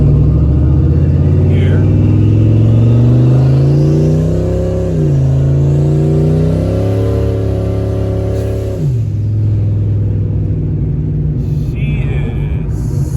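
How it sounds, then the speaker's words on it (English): A turbocharged Ford Mustang engine rumbles loudly through a part-throttle pull, its pitch rising and falling in waves, with a brief spoken word partway through. "I'm just going to do a little part throttle pull"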